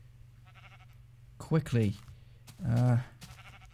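Sheep in the Minecraft video game bleat twice in quick succession over a steady low background hum, with a brief spoken word in between.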